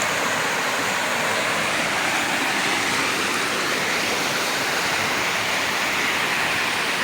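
A waterfall pours down in a steady, dense roar that stays full and even throughout, close by and with no voices over it.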